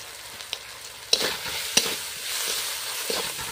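Fish sizzles and fries with turmeric, salt, chili and coriander powder in a pan, a steady hiss broken by a few sharp spits and stirring clicks, close by with no talk.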